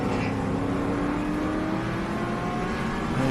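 Improved Production race cars, including a Nissan 350Z, roar down the start-finish straight at a WA circuit, a steady, loud blend of engines with no breaks and no talk.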